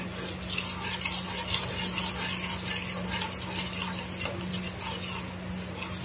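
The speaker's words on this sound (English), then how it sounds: "3 to 5 seconds are enough to fry them here." Onion and garlic frying in a pan for homemade chickpea gravy, giving a steady, close, moderate sizzle with stirring and faint utensil clinks throughout, no talk.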